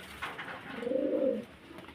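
A pigeon coos once, a soft low throaty warble close by, after a few faint rustles in a quiet space with pigeons kept for sale in Beldanga, West Bengal.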